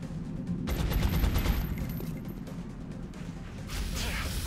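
Gunfire in XCOM Long War, a rapid rattling volley of shots that swells loud, fades slightly, then picks up again near the end, close and continuous.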